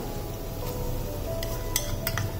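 Ginger, garlic and red chili paste sautéed with onion and tomato in a pan, heard as a continuous close sizzle with a few light metallic clinks and scrapes of the stirring utensil.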